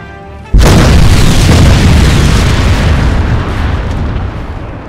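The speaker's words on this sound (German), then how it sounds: "Große Explosion!" A sudden loud boom from an explosion in the video game Crysis bursts in after a brief quiet moment, then a heavy rumbling roar that slowly fades over several seconds.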